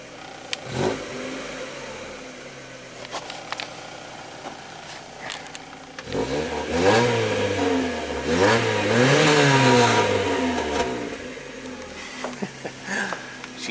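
A 1989 Toyota Tercel engine idles, then revs hard in rising and falling sweeps mid-clip before settling back, heard from inside or near the car with faint background noise.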